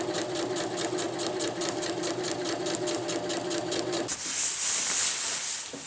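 A sewing machine stitches the ridgeline fabric of a winter tarp, running steadily and closely for about four seconds before the sound shifts to a brighter, airy hiss, with birds cooing faintly in the background.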